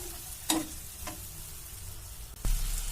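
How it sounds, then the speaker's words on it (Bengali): Prawns and whole spices fry quietly in a pan under a soft, steady sizzle, with a few sharp scrapes and clacks from stirring at irregular moments. "এবার এটা আমি ভালো মতো নেড়ে চেড়ে ভেজে নেব আর একটু ভালো করে"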